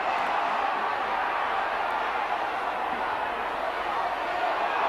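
A rugby league crowd at a 1986 Warrington versus Hunslet John Player Trophy match keeps up a steady, dense roar of cheering and shouting, filling the whole moment without a break.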